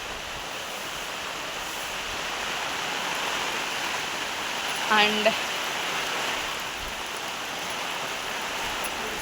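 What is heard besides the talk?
heavy rain falling in a village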